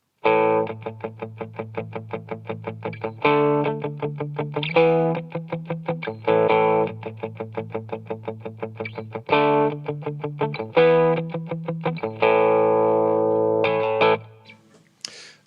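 Tight, chugging distorted electric guitar chords, palm-muted in rapid rhythmic bursts with occasional ringing open hits, loud and upfront with no voices.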